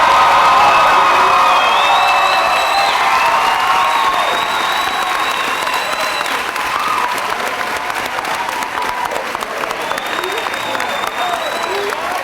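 Graduation commencement audience breaking into sustained applause with cheers and whoops for the 2012 adult education graduates, loud and dense at first, then easing slightly while clapping continues to the end.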